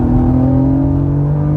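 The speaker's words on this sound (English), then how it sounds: "But here, you'll hear the VTEC, listen." An Acura NSX engine revs hard under load, a loud steady high-pitched drone climbing slightly in pitch as it pulls through the rev range, close and continuous with no talk.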